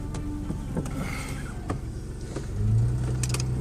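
A car drives off on a test drive, its engine rumbling steadily from inside the cabin, then swelling louder as it accelerates near the end, with a few knocks and clicks along the way.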